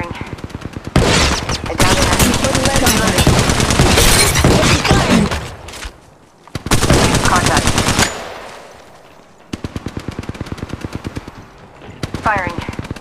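Automatic gunfire rattles through Apex Legends Mobile in loud rapid bursts, long sustained strings separated by short pauses and quieter gaps, with a few sharp single cracks and brief game sounds between volleys.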